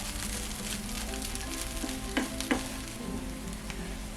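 Onions fry in oil with a continuous soft sizzle, faint and close, broken by a couple of brief stirring clicks midway.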